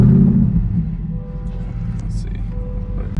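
Cabin-side engine note of a C8 Corvette E-Ray fitted with an AWE Track Exhaust, a steady low rumble that swells at the start and then holds a sustained drone, heard from inside the car.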